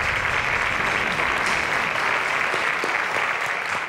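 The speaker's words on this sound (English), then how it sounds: "Please give him a round of applause." A round of applause from a quiz contest audience, a dense, steady wash of clapping that holds at an even level throughout.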